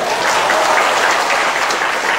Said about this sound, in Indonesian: tepuk tangan buat Danang